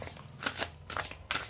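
Tarot cards are shuffled by hand in a few quick, soft riffling bursts, close up and quiet, with no talking.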